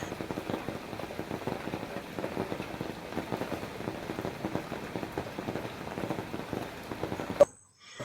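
Steady rain falls outside an open door in a Kerala home, a dense even patter of drops on the roof and surfaces that continues unbroken before cutting off abruptly near the end.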